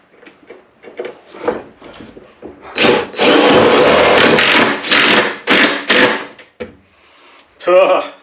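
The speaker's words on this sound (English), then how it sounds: "these are self-tappers, so we should be able to get them down in there. Hopefully we get them down in there with this little impact" Small impact driver sinking self-tapping screws into cargo trailer steel, loud rattling hammering bursts lasting a second or two each, close up, with a voice talking between them.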